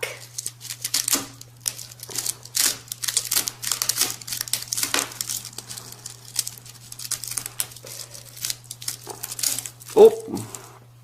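Rattlesnake rattle being cut and ripped in half by hand, giving a run of dry crinkling, crunching and tearing bursts with short pauses, up close, and a sharp louder snap near the end over a steady low hum.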